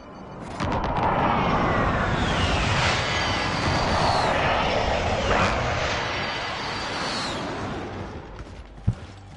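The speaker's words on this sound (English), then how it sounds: "Be advised, friendly precision airstrike inbound." A precision airstrike in a Call of Duty video game: a loud, roaring jet-aircraft pass swelling and sweeping over several seconds with rumbling booms, fading out and ending in a sharp thud.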